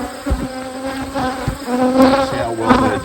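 Honeybees buzz in an open double brood chamber hive, a dense, steady insect drone close by with rising and falling swells and no voices.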